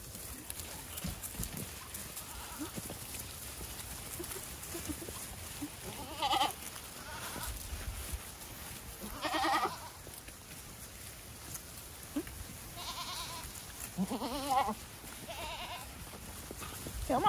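Goats bleating several times at moderate distance, with shuffling and faint hoof noises in between, over a quiet outdoor background.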